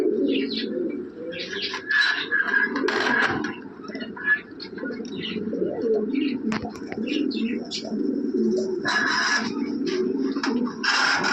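Black Lahori pigeons in a pigeon house coo steadily in a soft, continuous murmur, with scattered chirps from other birds over the top.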